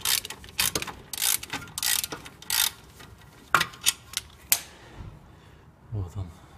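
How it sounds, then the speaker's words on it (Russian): Ratchet wrench loosening the top nuts on a Daewoo Matiz front strut with a 14 mm socket, quick rapid clicking bursts close by, then a few separate metallic clacks, with a voice at times. "Так, открутилась сверху обе гаечки на стойке."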